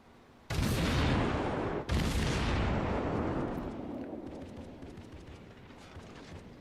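Heavy naval guns fire at the cruiser Murmansk in a World of Warships battle: two loud, close booming salvos crack in quick succession, each leaving a long rumbling roar that slowly fades.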